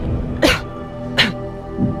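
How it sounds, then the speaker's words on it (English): Two distinct coughs in a quiet room, a short sharp one followed by a second after a pause, with a faint third throat sound trailing off. "coughs twice"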